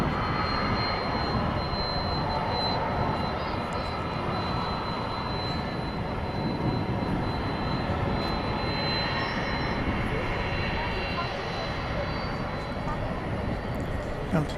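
An airliner taxiing at DFW Airport at night gives a steady, continuous broadband engine rumble with a faint high whine held throughout, fairly distant and unchanging, with no voices.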